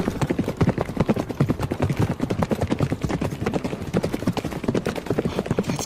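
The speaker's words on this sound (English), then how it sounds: "It's so dark I can only tell that it's somebody on a horse." Horse hooves clip-clop in a fast, steady rhythm as a horse is ridden at speed, with dense, close, evenly spaced hoofbeats throughout.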